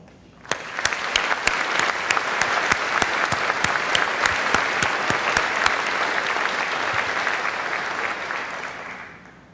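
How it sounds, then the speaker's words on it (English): An audience at a 2017 PSE presidential address claps for the board of directors, a dense, steady wash of applause with sharp individual claps throughout, lasting about nine seconds before tapering off. "I ask you to applaud our board of directors"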